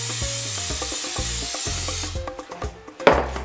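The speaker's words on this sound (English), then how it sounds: "I'm going to spray a bowl where you can put this inside with some cooking spray" Cooking spray is misted into a bowl before pastry dough goes in: a steady close hiss lasts about two seconds, then stops, leaving light clinks and soft handling sounds.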